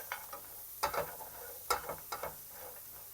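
Grated ingredients quickly mixed in a bowl for a Transcarpathian zucchini-in-sour-cream recipe, a few brisk scraping strokes in short bursts, close and fairly faint, no talking.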